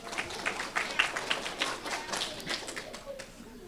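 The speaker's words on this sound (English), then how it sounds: "we'll still give her a round of applause" At a 4th grade school awards ceremony, a scattered audience of parents and students claps in a modest, uneven round of applause, fairly quiet and a little distant, fading toward the end.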